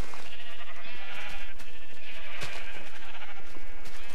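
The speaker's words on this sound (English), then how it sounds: "And it's got a lot of sheep" Sheep bleat in Minecraft, a dense, continuous layer of overlapping bleats from many animals, loud and steady throughout with no talking.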